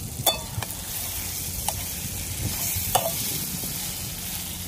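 Dried Bombay duck fish frying in oil in a village kitchen, stirred with a few scraping clicks over a steady, soft sizzle close by.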